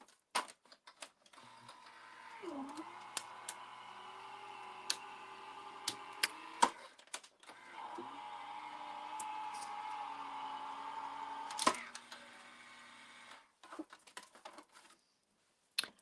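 An electric die-cut and emboss machine presses an embossing folder, giving a faint, steady motor whir for about twelve seconds, punctuated by light ticks and clicks at the start and end.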